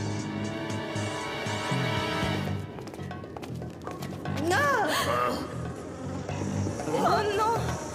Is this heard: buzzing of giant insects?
yes